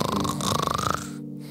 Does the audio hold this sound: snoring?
yes